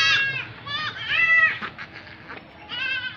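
Goats on a farm, including does with kids, let out several loud, close bleats in quick succession, with quieter gaps between cries.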